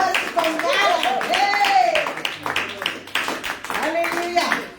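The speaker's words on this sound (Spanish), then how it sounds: "¡Ese aplauso fuerte y con ganas!" Loud applause fills a church service while voices shout and chant excitedly over it, with a sustained crowd roar.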